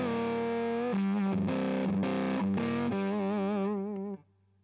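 Electric guitar played through a fuzz pedal into the lead channel of a 2-Rock amp, heavily distorted sustained chords with shifting pitch, held loudly alone for about four seconds before cutting to a faint hum.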